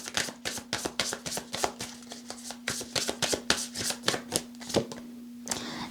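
A deck of tarot cards is shuffled and riffled in rapid, repeated bursts of crisp slapping and flicking, close and fairly loud, with brief pauses between bursts and no talking.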